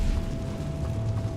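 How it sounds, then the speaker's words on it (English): Confringo blasting spell from Hogwarts Legacy erupts as a moderately loud, low rumbling blast, with a sustained dull roar and a faint steady hum underneath throughout. "Confringo."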